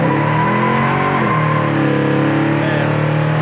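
A 1969 Chevelle hot rod accelerates hard, its engine loud and close, rising in pitch, dropping at a shift around the midpoint, then climbing again.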